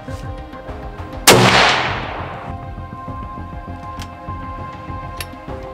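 A single sharp, loud report from a Bergara 6.5 Creedmoor deer hunting rifle being sighted in, followed by a long decaying tail against steady background noise.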